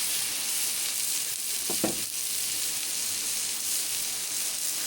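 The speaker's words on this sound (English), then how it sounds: "Get a little butter on here for the onions so they don't burn to piss." Onions fry in butter on a Blackstone griddle outdoors in the Oregon wilderness, a steady faint sizzle that continues throughout, with a brief clatter midway and someone speaking briefly over it.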